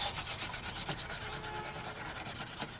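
Quick, rhythmic back-and-forth wet sanding of a wooden bowl, close and soft, with a slightly hissing, scratchy texture.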